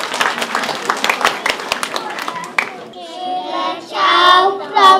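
Brief round of clapping from a small audience at a village Easter folk-custom performance in Bibice, scattered distinct hand claps for a few seconds, then giving way to children's voices and chatter.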